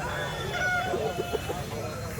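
Pure-breed chickens at the Kundarapalli market, heard as short clucks and a brief crow rising over a steady bed of market bustle and murmuring voices.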